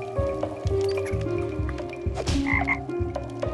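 Frog croaks from the video game Toki Tori 2+ come as a series of loud, close, rhythmic low-pitched croaks, with squelchy, watery game effects and a short bright chime partway through.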